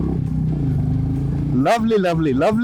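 A Royal Enfield Goan Classic 350 motorcycle's 350cc J-series engine idles with a low throbbing exhaust, then revs up in several rising bursts, loud and close, with a voice talking over it.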